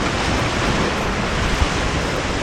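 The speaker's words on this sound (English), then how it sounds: "so this surf is semi-dangerous, I guess." Surf on Medano Beach in Cabo San Lucas, a steady broadband wash of breaking waves with little rise and fall, close and fairly loud, with no voices over it.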